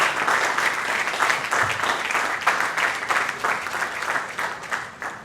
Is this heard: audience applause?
yes